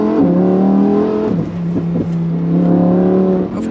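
A Lamborghini Huracan Evo V10 engine idles with a loud, steady, throaty hum, broken by a few quick throttle blips in the middle and one more at the end.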